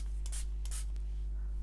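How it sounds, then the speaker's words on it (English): A spray bottle mists water over watercolour paint on paper: two quick, faint spritzes close together, with no talk. "then using a spray bottle"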